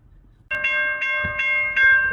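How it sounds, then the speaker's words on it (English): A train on the tracks in Williamson, West Virginia, sounding a loud, steady horn chord that starts abruptly and holds, pulsing slightly in strength over about two seconds, close by and alone. "Got a train stuck on the tracks here."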